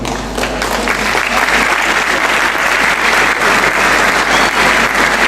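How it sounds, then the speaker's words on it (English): Loud, sustained applause from a large audience at a public meeting during opening speeches, a thick continuous wash of clapping hands with no pauses. "I got used to the applause"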